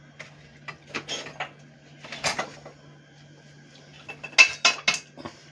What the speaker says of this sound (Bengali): ভালো করে মিশিয়ে দেব।